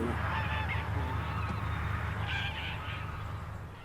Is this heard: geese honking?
yes